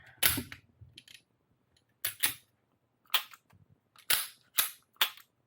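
A Sig Sauer P365 pistol has its slide put back onto the frame and is function-tested, giving a series of sharp metallic clacks and snaps, some doubled, spaced unevenly and heard close up.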